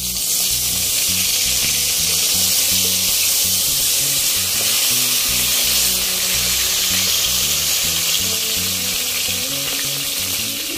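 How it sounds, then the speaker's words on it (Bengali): Eggplant pieces rubbed with salt and turmeric fry in oil left from frying fish, a loud, steady sizzle with crackling that runs unbroken throughout, close up and with no voices. "মাছ ভাজার তেলের মধ্যে বেগুনের টুকরোগুলোর মধ্যে নুন হলুদ মাখিয়ে ভেজে নেব"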